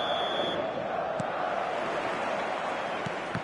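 A packed football stadium crowd roars and chants continuously as a dense wall of noise at a showcase night game, loud and sustained with a few sharper shouts breaking through.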